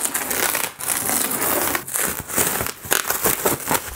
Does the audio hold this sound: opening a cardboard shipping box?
yes